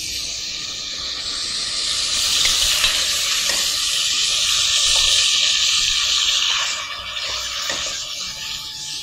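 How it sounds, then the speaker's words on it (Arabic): Chicken sautéing in a pan with onion gives a steady, fairly loud sizzling hiss that swells in the middle, with a few soft utensil clinks and no voices. "انا هشوح الفراخ وهنزل عليها على طول شوية بصل"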